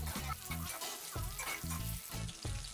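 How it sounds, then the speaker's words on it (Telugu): Green chillies and chana dal frying in a tablespoon of oil in a pan, a steady close sizzle broken by rhythmic scraping stirs of a spoon against the pan. "ఒక ప్యాన్లో 1 టేబుల్ స్పూన్ ఆయిల్ వేసి అందులో పచ్చిమిర్చి, పచ్చిశనగపప్పు వేసి వేయించండి."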